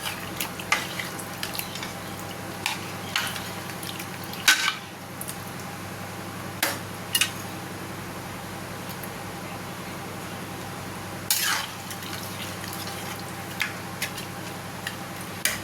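A spoon scrapes and clinks against a pan as spicy Kerala-style chicken gravy is stirred, with scattered metallic taps over a steady low background and a voice talking at times.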